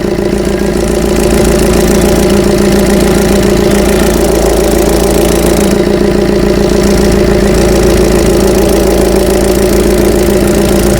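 A car engine idles with a misfire caused by doubled washers on an injector, a loud, close, continuous rumble with a rough, uneven pulsing throb throughout and no voices.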